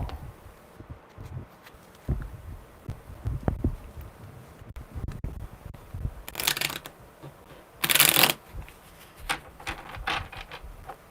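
Tarot cards are shuffled by hand in a series of soft riffling bursts, with two louder crisp riffles partway through, close up and with no voices.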